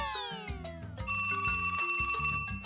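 A telephone rings in a panchayat office early in the morning, an electronic melodic ringtone with bright repeating tones, loud and close, heard alone.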